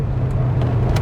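A 2001 Ferrari 360 Spider with a loud aftermarket exhaust gives a steady, heavy low engine rumble, close and loud, throughout the brief moment.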